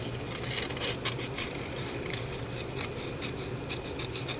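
Scissors cutting decorative paper for a craft journal page, a close series of crisp snipping and rustling sounds in quick succession, with no talking.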